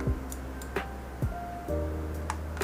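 A few sharp plastic clicks spaced apart over a low steady hum, close and distinct, with no one speaking.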